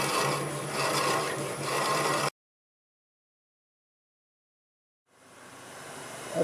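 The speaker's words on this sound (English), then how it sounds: "Well, it's drilling." A drill running at 1500 RPM bores into a block of rock-hard black locust burl during bowl turning, giving a steady broadband rasping grind that cuts out abruptly into silence, then resumes more softly near the end.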